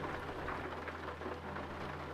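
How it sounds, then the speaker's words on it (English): Steady rain hisses in Euro Truck Simulator 2 while driving a Volvo truck, a continuous wash of noise over a low droning hum. "oh, it's still raining"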